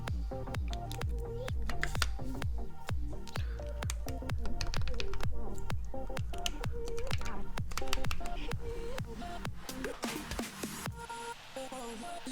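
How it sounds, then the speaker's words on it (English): Keycaps from the GMK Bento set being pressed onto a KBD67 MKII keyboard, a dense run of sharp plastic clicks and snaps in quick irregular succession, close and loud, tapering off near the end. "So let's get those caps on here."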